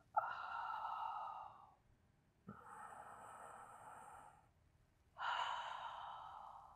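Three long, audible breaths, inhaling and exhaling in slow, even cycles with short pauses between, during a pelvic floor exercise session, close and fairly soft.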